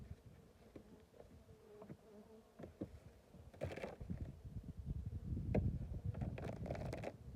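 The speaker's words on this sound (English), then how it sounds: "there's still a good amount of bees there" Honeybees buzz in a hive colony while it is checked in January, giving a faint, close, continuous hum with scattered soft thumps and rustles that grows a little louder partway through.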